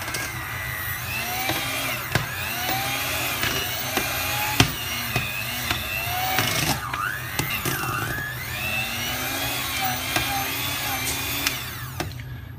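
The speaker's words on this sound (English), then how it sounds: "It's very important to blend it evenly so all the flavors in the saffron is mixed evenly." A blender whirs and churns a thick saffron ice cream mixture, its motor pitch rising and dipping as the load shifts, with knocks and rattles throughout at close range.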